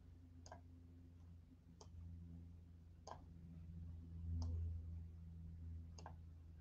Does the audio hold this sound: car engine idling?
no